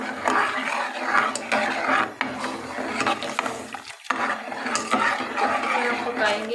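Milk with sugar and cashew-almond paste stirred in a pot for milky vermicelli, a spoon scraping and clinking steadily against the metal with a repeated rhythmic scrape, close and moderately loud, with a brief pause near the middle.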